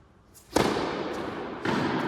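A tennis ball is struck on an ace serve during a friendly match: a sharp, close pop of the racket hit, followed about a second later by a second duller impact, with no talk.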